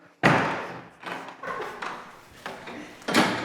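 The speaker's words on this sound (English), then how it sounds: "door's opening." A door opens in a house, with a sharp thud followed by several softer knocks and rattles of movement over a few seconds, close by.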